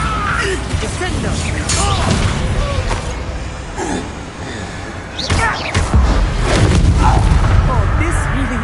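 A Bombarda blasting spell goes off in a magical duel in Hogwarts Legacy, with loud booming explosions and crashes over busy combat noise while a voice shouts.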